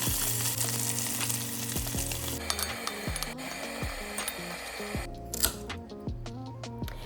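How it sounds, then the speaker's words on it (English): Sausage searing in coconut oil in a pot for Jamaican stew peas: a continuous crackling sizzle with small pops, heard under steady background music. "I'm going to put them in my pot to fry. I add some coconut oil to sear them off a little bit"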